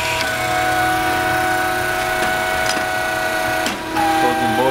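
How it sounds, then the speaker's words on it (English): A McElroy No. 28 HDPE pipe butt fusion machine runs its motor and hydraulic pump, a steady mechanical drone with tonal whine, close and loud, shifting pitch briefly near the end. "Here we're going to go ahead and run this fusion machine here."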